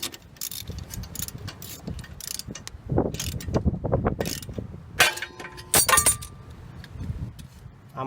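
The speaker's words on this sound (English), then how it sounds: "Next, I'm going to use my ball joint remover." Ratcheting clicks and metallic scraping as a ball joint remover is cranked down on the tie rod end of a 2003 Mitsubishi Lancer ES, in a burst of close, uneven mechanical ticks.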